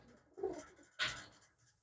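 A pigeon with black eyes and a white-tipped beak gives two soft, short coos about half a second apart, faint and with no voices over them.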